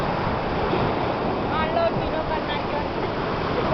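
Ocean surf at the seashore, a continuous broad roar of waves mixed with wind buffeting the microphone, with faint voices in the background.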